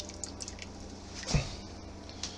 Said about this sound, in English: We're going to fill these up